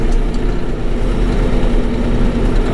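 A tractor engine runs steadily while hauling firewood on a homestead, a loud, constant low rumble with no breaks and no talking.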